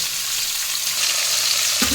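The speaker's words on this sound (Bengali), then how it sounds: "এদিকে সব মাছ ভাজা হয়ে গেছে" Small Bhola fish fry in oil in a wok, giving a steady, loud, close sizzle throughout with no speech and a brief clatter near the end.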